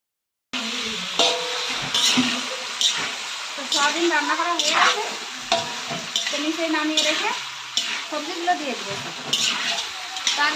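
Vegetables stir-frying in a pan just after tempering spices go in, a steady close sizzle with repeated scraping stirs, while a voice talks over much of it.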